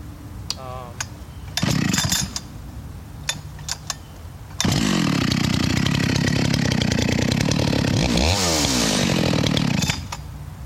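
A Makita DCS-9010 chainsaw fitted with a 32-inch .404 chisel chain sputters briefly, then roars loud and close at high revs before cutting off, with clicks and handling noises in the quieter stretches.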